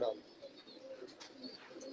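Pigeons coo softly in a rooftop loft of twenty to twenty-five birds in Lahore during light rain, with low, faint calls repeating under quiet background noise.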